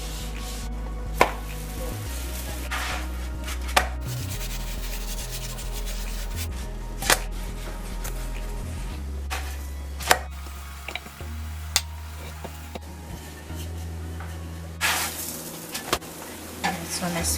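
Oil rubbed across a hot griddle beside cooking cilantro roti gives a loud, continuous sizzle with scraping and rubbing strokes and occasional sharp taps, up close and without speech.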